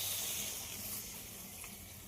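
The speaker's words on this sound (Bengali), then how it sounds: "এবার দিয়ে দেব পরিমাণ মতো জল।" Water poured into a pan of simmering mustard curry, a steady soft hissing sizzle that fades slightly over two seconds, close and alone.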